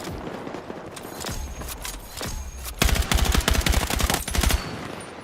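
Rapid bursts of video game gunfire, sparse single shots first and then dense automatic fire, loud and close with no talking over it.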